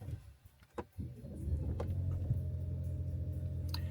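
A 2020 Lincoln MKZ Hybrid's gasoline engine starting after a couple of soft clicks, then settling into a low, steady idle hum with a faint tick near the end.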